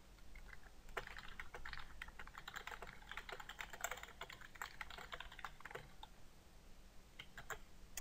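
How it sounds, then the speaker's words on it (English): Typing on a computer keyboard: a steady run of quick, light key clicks, close and fairly faint, with no talk, easing off briefly near the end. "let's just type in something simple like"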